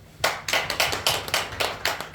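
Church congregation clapping together during a Friday evening service, a steady rhythmic series of about a dozen claps in unison, fairly close and clear.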